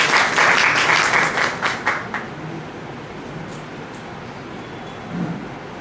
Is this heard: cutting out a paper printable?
no